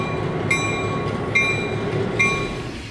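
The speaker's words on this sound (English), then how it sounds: "An SW9 returns to the mill after dropping a single boxcar off at the Standard Depot" An SW9 diesel switcher locomotive rolls back toward a lumber mill, a steady low engine and wheel rumble with three evenly spaced bright squeals or clanks from the cars, close and continuous throughout.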